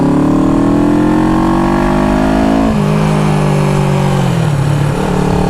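Riding at a steady cruise, a 1974 Honda CB360 motorcycle engine pulls smoothly, its pitch climbing and then easing back through a shift, loud and close with no stumbling.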